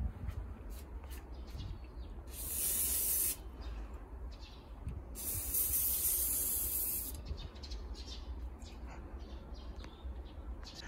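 A 100-yen fluorine waterproof spray hisses onto a down jacket in two long bursts of several seconds each, loud and close over a low background rumble.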